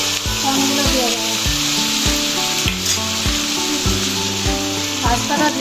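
Corn kernels tossed into a frying pan with sautéed vegetables and sauce for pasta, a loud, close, steady sizzle punctuated by regular rhythmic thumps and scrapes of stirring.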